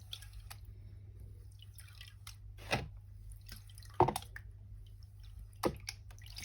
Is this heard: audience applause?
no